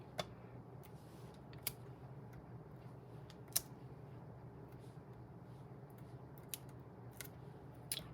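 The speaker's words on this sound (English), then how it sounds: "I'll trim at an angle, both sides, both ends." Paper card stock being trimmed at an angle on both sides and ends, with a few faint, sparse clicks and snips spread over a quiet, steady background hum.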